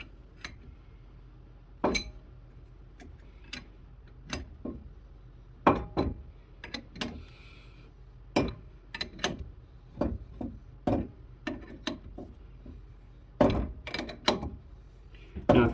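During brake work on a 2003 Ford Explorer Sport Trac, a hand wrench gives sharp, scattered metallic clicks and clinks at an uneven pace, fairly close and moderately loud against a quiet background.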